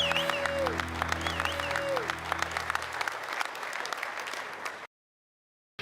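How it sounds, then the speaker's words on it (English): An audience applauds loudly at a bass fishing tournament's check presentation, with dense, continuous clapping and a few cheers that fade out before falling silent near the end. "Round of applause for Raj as he goes to collect his check."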